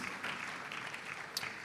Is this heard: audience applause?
yes